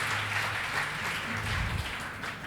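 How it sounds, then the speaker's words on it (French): An audience applauds at a live talk event, a steady wash of clapping heard at a moderate distance that keeps an even level without breaks. "Et ça s'applaudit une deuxième fois"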